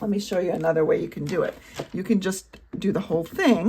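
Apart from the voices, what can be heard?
No distinct noise like a dog, phone or traffic.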